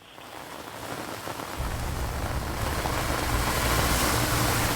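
Heavy rain pours down in Cuddalore, a dense, steady hiss of drops on surfaces that swells louder after the first second and stays strong and unbroken, with no voices.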